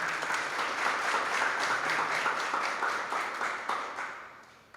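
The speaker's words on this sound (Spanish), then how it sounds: "para quienes pido un fuerte aplauso" Dense, steady applause from the crowd at an exhibition opening for the designers, sustained evenly throughout and tapering off at the very end, with no voices over it.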